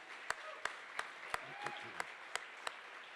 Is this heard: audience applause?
yes